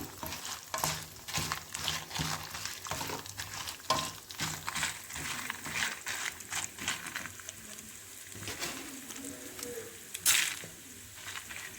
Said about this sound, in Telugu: మినపప్పు అండి ఇలా వేసుకొని వేయించుకుంటున్నాము